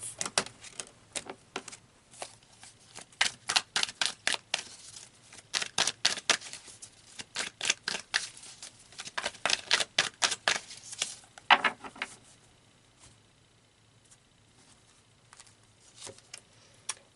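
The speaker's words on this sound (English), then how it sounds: "So let's pull some more cards." A deck of oracle cards is shuffled and cards are pulled, producing soft, quick riffling flicks and papery patter in uneven bursts, quieter toward the end, with no speech.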